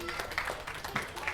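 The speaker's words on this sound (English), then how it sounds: "Give a round of applause, please." Audience members at a live podcast show in a beer tent at an off-road show applaud a guest, a quiet, dense patter of clapping with speech over it.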